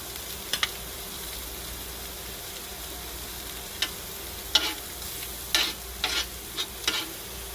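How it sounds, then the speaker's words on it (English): Broccoli cooking in butter in a small RV kitchen gives a steady, quiet sizzle, broken by several sharp clicks and scrapes of a utensil stirring the pan, with no talking. "I'm going to put the broccoli on"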